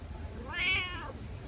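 A cat gives one clear, drawn-out meow close by, rising and falling over a low background rumble, with no voices.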